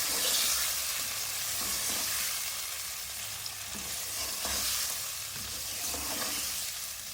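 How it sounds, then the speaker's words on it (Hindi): Marinated chicken for a shahi korma frying on high heat, a loud, continuous, close sizzle with occasional soft stirring movements underneath. "तेज़ आंच पे मैं इसकी भुनाई कर रही हूँ 4 से 5 मिनट।"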